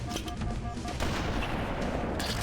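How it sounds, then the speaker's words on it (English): Frag grenade detonating in Halo amid ongoing combat, a dense, loud burst of blasts and crackling gunfire-like impacts filling the short moment without any talking. "I'm gonna throw a frag grenade here"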